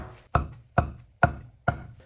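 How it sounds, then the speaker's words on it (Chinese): Knife on a cutting board slicing onion into thin strips and chopping coriander into long pieces, four sharp evenly spaced strokes, close and clear, with no talking. "洋葱切成细丝，香菜洗净切成长段"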